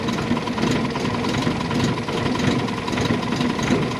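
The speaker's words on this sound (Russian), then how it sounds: "работает неустойчиво, но завелся сразу" A 1964 Moskvich-403 car engine runs at idle after starting, a steady rough rumble with an uneven, slightly lumpy beat, heard close and alone.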